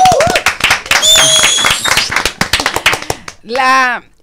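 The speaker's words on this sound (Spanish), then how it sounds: "Un aplauso" A studio audience claps briskly to welcome a music producer on a talk show. The crisp, fairly loud claps run throughout alongside music, and a brief drawn-out vocal swell comes near the end.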